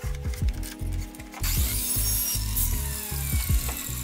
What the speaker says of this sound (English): we're going to want to cut off a 3-inch long piece